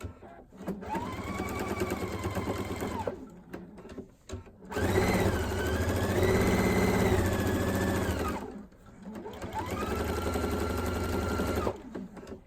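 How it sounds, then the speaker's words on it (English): Three long bursts from a sewing machine stitching binding down onto a quilt, each a steady, close whirring run with a slight pitch rise and fall, separated by short pauses. "I will be able to just stitch down my binding"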